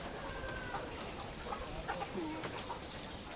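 Chickens on a Nigerian poultry farm cluck and murmur faintly in a steady low chorus, with a few short calls rising above the background.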